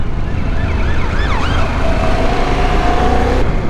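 A police siren wails loudly and close, its pitch sweeping up and down, then settling into a steadier tone over the constant roar of traffic and a motorcycle. No one speaks.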